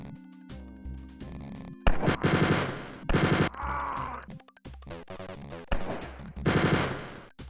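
Minigun fire in the 1992 DOS game Spear of Destiny, several loud rapid bursts of chattering shots separated by short gaps, with crunchy retro game effects between them.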